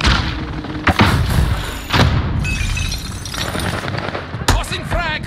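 Frag grenade blasts in a video game land as several heavy booms and thuds spaced a second or two apart, amid dense battle noise and clutter.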